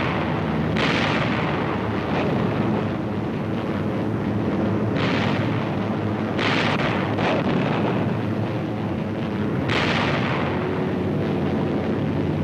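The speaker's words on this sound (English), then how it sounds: "At the critical moment, 500-pound bombs are skipped into the sides of the Japanese ships." Heavy 500-pound bombs exploding against the sides of Japanese ships in wartime film footage: loud, sustained rumbling blasts with several sharp bursts rising out of a continuous roar.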